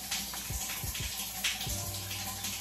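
Shower water runs steadily and loudly, a continuous hiss and splash with a few faint thumps underneath and no talking.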